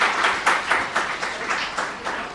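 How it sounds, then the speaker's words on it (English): In a session room, an audience claps in a loose, pulsing rhythm, with the crowd's hands swelling and easing in quick regular beats over a couple of seconds. "clap for yourselves because this is for you"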